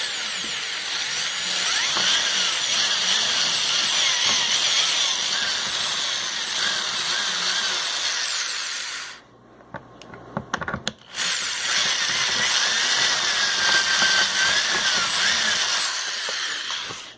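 A power drill whines steadily while drilling out rivets on a 1990 Volvo 740 sedan door panel. It runs loud and close, stops briefly with a few clatters, then starts up again.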